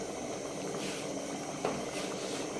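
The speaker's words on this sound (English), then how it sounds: "Soup is bubbling." Egg curry soup bubbling steadily in a pot on the boil, a low continuous seething and hiss with faint pops, close and at an even level throughout.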